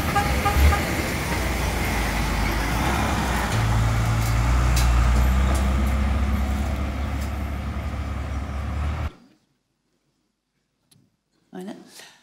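Giant drilling trucks carrying pipes and gravel grind along a rough dirt track in Guinea, a loud continuous engine rumble and rattle that cuts off abruptly, followed by near silence with faint knocks.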